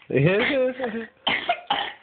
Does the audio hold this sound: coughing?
yes